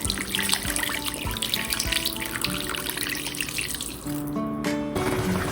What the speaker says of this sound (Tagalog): Dadagdagan natin ng tubig na marami